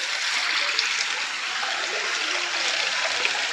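Water trickling and splashing over rocky ground from a rock, a steady broadband rush that stays close and even throughout with no talk.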